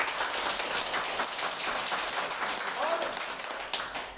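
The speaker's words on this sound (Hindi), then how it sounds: "सो सर लोग के लिए जोरदार ताली।" Dense, steady clapping from a room full of people at a network marketing training class, loud and continuous throughout with no pauses.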